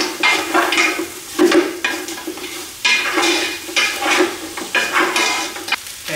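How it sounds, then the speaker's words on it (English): Curry-powder-coated beef is stirred in a pot over low heat for a beef stew, with repeated scraping strokes and a steady sizzle underneath, close and fairly loud throughout. "Okay, stir that up."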